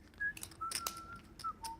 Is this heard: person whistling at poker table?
yes